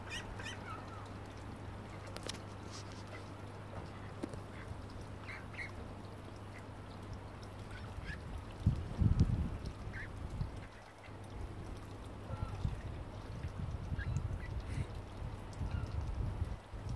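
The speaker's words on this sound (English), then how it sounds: "Eight duckies growing up very fast." Eight young ducks with angel wing quack softly and intermittently nearby, with brief louder bursts of calling partway through over a faint steady background hum.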